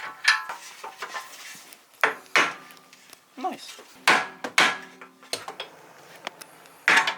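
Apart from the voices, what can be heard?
hammering a socket to loosen a Supra suspension part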